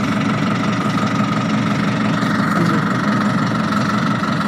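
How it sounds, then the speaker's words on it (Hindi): A tractor engine runs in gear with the PTO shaft turning, giving a loud, steady, close-up mechanical rumble and knock throughout, with no voices. "अब ट्रैक्टर को गियर पे लगा के मूव करके देखते हैं। जब ट्रैक्टर चलता है तो पीटीओ स्पीड भी पीटीओ भी घूमता है।"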